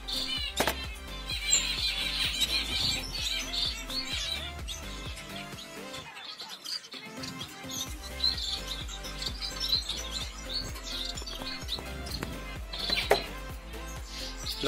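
Small birds in an aviary chirp and tweet near and continuously, with a nest of chicks close to waking among them, the busy high calls layering over one another with a brief lull midway.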